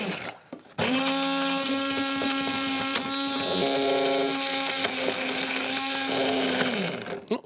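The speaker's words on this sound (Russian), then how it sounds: "обрабатываю блендером." A blender purees a chocolate mole sauce, whirring steadily for several seconds, a loud, even motor hum with faint fluctuations as it churns, then winds down.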